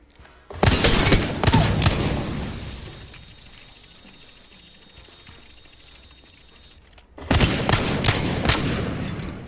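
Bursts of rapid gunfire in the shooter game Apex Legends, a loud volley at the start and another near the end, with a quieter rumbling stretch between and no talk.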